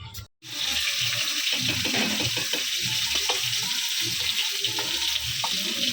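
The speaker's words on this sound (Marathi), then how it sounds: "तेल टाकून त्याच्यात कांद्याची जी पेस्ट केलेली ते टाकलं सगळं" Onion paste fries in oil with a dense continuous sizzle after a brief gap at the start, a close, fairly loud hiss with faint stirring underneath.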